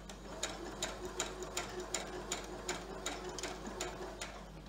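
A sewing machine stitches around the curved seam of a fabric face mask at a widened stitch length of about 3, its needle clattering in a steady, evenly spaced rhythm at moderate volume with no one speaking.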